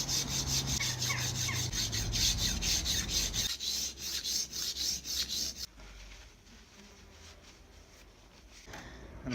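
A kitchen knife is sharpened on a diamond stone, rhythmic back-and-forth rasping strokes close and steady at first, then slower, softer passes fading into quieter scraping, with no speech.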